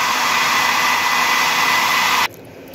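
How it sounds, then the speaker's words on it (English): A blow dryer blowing hard at close range, a loud steady whooshing roar with a high whine that suddenly cuts off near the end. "Whoever can survive the blow dryer the longest."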